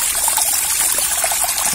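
Water rushes steadily through the pipe of a hydraulic ram pump, a continuous bright hissing flow with fine trickling texture, close and loud, with no voices.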